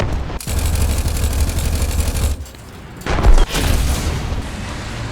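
Friendly artillery fire in the tank battle game War Thunder lands nearby: heavy, booming rumbling blasts that roll on for seconds, a brief lull, then a sharper loud thump followed by more rumbling.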